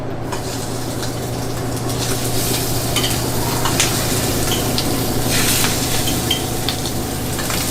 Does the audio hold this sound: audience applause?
no